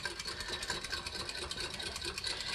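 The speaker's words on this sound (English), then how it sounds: "We're going to give those a little whisk just to get them broken and" Two eggs being whisked in a Pyrex glass bowl, a rapid steady clicking and sloshing of a whisk against the glass, close and continuous.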